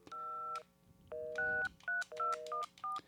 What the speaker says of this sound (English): I'm going to hit the buttons here as if I'm dialing